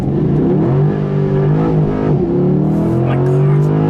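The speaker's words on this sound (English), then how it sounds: "Try launching this car, see how violent this is." A C8 Corvette launches hard under launch control, its engine roaring loud and close as the pitch climbs steeply, dips briefly at a quick gear change, then keeps rising.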